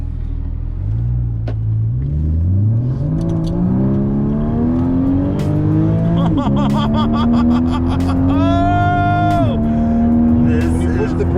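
A 2015 Porsche Cayman GTS engine revs up through rising paddle-shifted gears, then a sharp blip and drop in pitch marks a downshift; the engine drones loudly and continuously.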